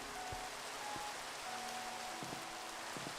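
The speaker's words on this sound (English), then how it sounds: "Now it's raining." Steady rain falls in the Animal Crossing video game, a soft continuous patter with a few faint tonal notes of game music drifting underneath, no voices.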